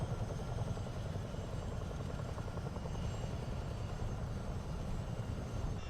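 Helicopter landing in Microsoft Flight Simulator 2024, a steady, loud rotor and engine drone with a low rhythmic thump that holds constant throughout and has no talk over it.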